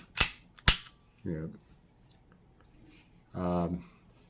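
A Taurus GX4 pistol's slide snapping shut and locking, two sharp close metallic clacks in quick succession, followed by brief bursts of someone talking.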